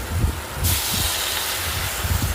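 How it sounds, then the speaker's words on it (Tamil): A sudden loud sizzling hiss erupts as water hits a hot pan of eggplant, drumstick and broad beans for kara kuzhambu, continuing as a steady steamy rush over low bubbling pops. "இப்போ இந்த காய் வேகிறதுக்கு தேவையான அளவு தண்ணி ஊற்றிடலாம்"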